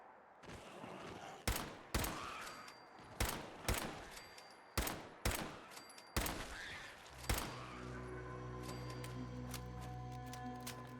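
Gunfire in Fallout 4: about eight sharp, evenly spaced shots ring out one after another, each with a short echoing tail, before a steady tonal hum takes over near the end.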